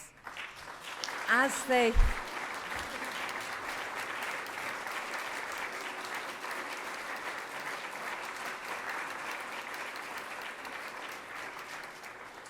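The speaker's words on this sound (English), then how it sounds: "could we have one more round of applause for our very clever graduates" Sustained applause from an audience at a graduation ceremony for the graduates, with a brief spoken interjection near the start before steady, even clapping carries on to the end.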